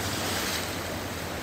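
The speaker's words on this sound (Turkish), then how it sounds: "Dalgayı görüyorsunuz." Waves from a passing boat's wake wash against the shore at Sarayburnu in the evening, a steady, fairly faint rushing surf with wind noise, heard briefly with no voices.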